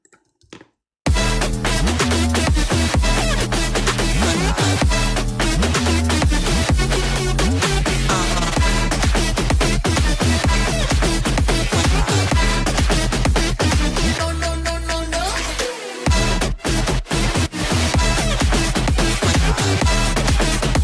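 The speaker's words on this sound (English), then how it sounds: "So start with the drop. This is how it sounds." A dense electronic dance track plays loud and full, with a steady pounding beat and layered synths, briefly cutting out and stuttering near the end.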